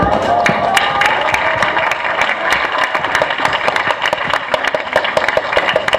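An audience at a graduation ceremony applauds steadily, with a dense patter of many hands clapping close by and some crowd voices mixed in.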